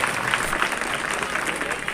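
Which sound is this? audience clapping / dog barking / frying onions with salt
audience clapping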